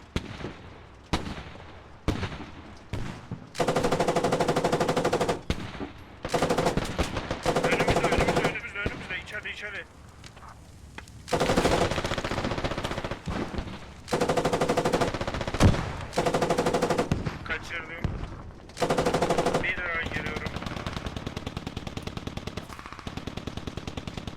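Gunfire in the military shooter game Squad: long bursts of automatic fire and single shots, loud and close, separated by short pauses, with players talking over it.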